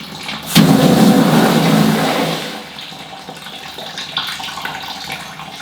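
Water gushes hard from a newly fitted shower mixer tap, a loud rushing stream that eases to a lower, steady flow.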